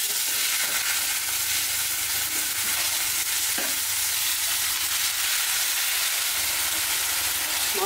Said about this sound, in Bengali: মশলাটা ভালো করে কষাই নিতে হবে।